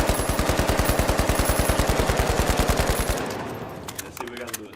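Sustained automatic gunfire in a video game played on a Gamesir G7 Pro controller, a fast steady stream of close, loud shots for about three seconds that stops abruptly, followed by quieter scattered sounds and a brief voice.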